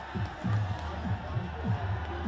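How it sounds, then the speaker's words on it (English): A stadium crowd at a Nepal cricket match roars in a sustained, dense wash of cheering, with a commentator's voice talking over it throughout. "the crowd absolutely erupting now"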